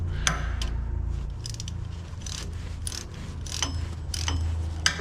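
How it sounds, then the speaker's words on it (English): A ratchet works loose bolts on the throat cover of a Gleaner R52 combine, giving bursts of quick metallic clicking at irregular intervals over a low background hum, close by with no talk. "let's go ahead and start popping some bolts"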